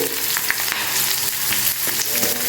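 Asafoetida drops into hot oil for the tempering of a poha curd dish, along with chopped green chili and ginger, and a steady, close crackling sizzle carries on without a break.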